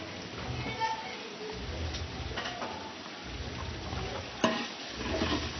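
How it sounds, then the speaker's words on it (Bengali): Onions frying in oil until brown for biryani, heard as a low steady sizzle with scraping stir strokes, fairly quiet and close, with a voice talking over it at times. "কালারটা খুব ভালো আসে যদি পেঁয়াজটা আপনারা ভালো করে একটু ব্রাউন করে ভেজে নেন।"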